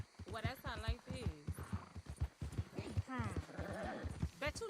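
Horse hooves clip-clop in Red Dead Redemption 2, a steady walking rhythm running under continuous conversation between characters.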